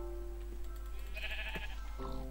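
A video-game sheep bleats once in a short, clear call over a steady low hum and quiet game sounds, with little else going on.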